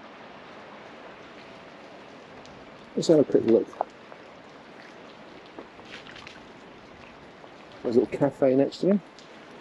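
Steady rain patters softly in the background at an outdoor Christmas market in Exeter while someone speaks briefly twice over it.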